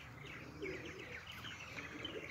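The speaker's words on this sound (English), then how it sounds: "you can hear there's a few martins here today, more than normal" Several purple martins call in spring around a nest site, giving a busy run of soft chirps and warbling notes from a little distance, fairly quiet against outdoor background noise.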